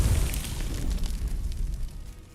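In the game Hogwarts Legacy, the Confringo fire spell detonates in a deep, rumbling explosion that rolls on and slowly fades.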